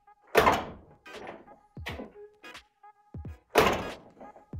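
A car door on a Toyota Celica RA24, its hinges freshly rebuilt, swings shut twice with loud, close thunks, separated by smaller knocks and clatters of handling in between.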